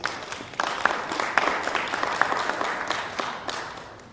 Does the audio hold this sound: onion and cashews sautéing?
no